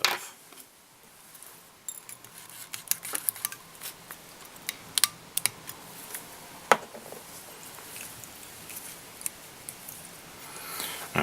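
Small scissors give a few quiet snips while trimming material during fly tying at a bench, sparse faint clicks and rustles over a near-silent background.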